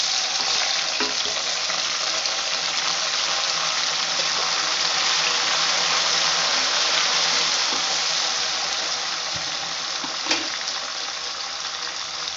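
Tomatoes dropped into golden fried onions for prawn curry, giving a loud, steady, close sizzle with a faint scrape of stirring, no voices.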